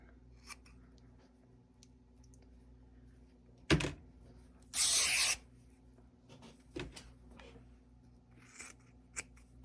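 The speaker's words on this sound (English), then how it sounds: "I'm going to take material and cut strips and dye it." Scissors cutting fabric into strips: a few separate sharp snips and one longer rasping cut, close and crisp against a quiet room background.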